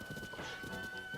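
Rapid clip-clop of a horse galloping in Tears of the Kingdom, with quick rhythmic hoofbeats and a whinny over battle game sounds, and a voice briefly talking.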